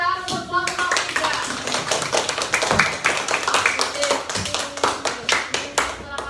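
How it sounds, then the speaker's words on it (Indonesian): A small group of schoolchildren claps in a classroom in quick, uneven rhythm for several seconds, with voices chattering faintly underneath. "Beri tepuk tangan untuk kelompok 3"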